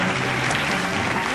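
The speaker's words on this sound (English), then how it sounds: "Round of applause, ladies and gentlemen, for the Double Dare Rules Choir." A studio audience at a Double Dare taping at Nickelodeon Studios claps for the Double Dare Rules Choir: a dense, loud, continuous wash of applause across the whole brief moment.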